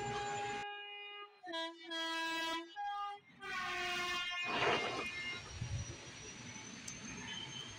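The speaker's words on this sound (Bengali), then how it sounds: "এটা ছিল একটা এক্সপ্রেস ট্রেন" An express train rolls past a railway station, its horn sounding in several loud, stepped blasts before the carriages rumble by in a steady roar that fades toward the end.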